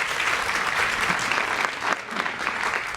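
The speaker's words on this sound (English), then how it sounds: "Let's also give our judges a round of applause for their time and expertise here today." Full, sustained applause from an audience for the judges at a youth summit competition, a dense continuous roar of many hands clapping, close and steady throughout.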